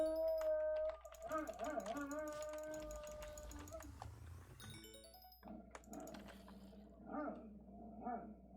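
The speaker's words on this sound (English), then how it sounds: "she sounds like she's getting old, my dog" An old pet dog barks and growls in a few uneven bursts under game music and background sounds, moderately loud.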